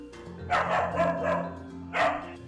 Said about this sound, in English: The dog starts barking.